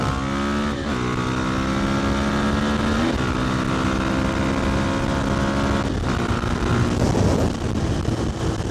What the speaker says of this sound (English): That literally broke that tire loose.